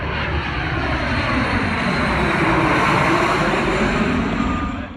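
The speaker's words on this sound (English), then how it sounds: "we had 2 large air tankers here." Large air tanker aircraft engines at a wildfire response in Southwest Oregon give a steady, loud, broadband drone that holds for the whole stretch with no voices.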